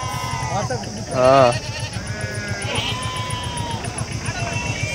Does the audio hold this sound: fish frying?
no